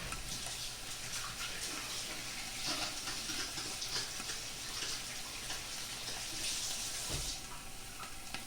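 Hands are washed under a running kitchen tap, a steady faint rush of water with small splashes and shifts in flow, heard alone for about eight seconds.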